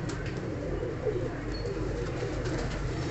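Indian Zakh (Kale Zaakh) pigeons cooing in a breeder's loft in Faisalabad, a steady low murmur of overlapping coos throughout with a busy background of other birds.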